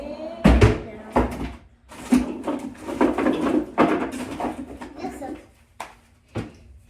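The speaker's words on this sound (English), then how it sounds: "Stop playing with the drawers, please." A child plays with drawers indoors, producing a series of sharp knocks and slides at irregular intervals, with a voice talking over and between them.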